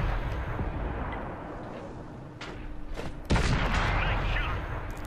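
A tank cannon fires in the World of Tanks video game on Xbox 360, with a sudden loud blast rising over dense, steady game noise and rumble, then lingering roar.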